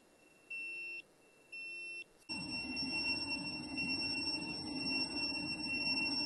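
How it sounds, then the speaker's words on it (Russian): A drone detector beeping as it picks up Wi-Fi and phone signals: two short electronic double-tone beeps, then a sustained, louder high-pitched tone that holds steady with a buzzing undertone to the end. "Вот мы его включаем, он сразу начинает пищать на Wi-Fi, на телефоны."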